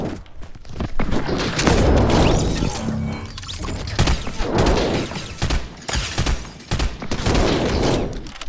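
Hunting rifle fire in Fortnite: loud, close gunshot bursts and booming impacts repeat through a busy, dense mix of game sounds.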